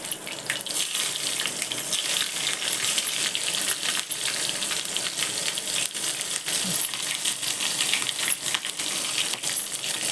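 Dense crackling and popping of mustard seeds spluttering in hot oil with chopped chilli, continuous and close for the whole stretch, with no talking.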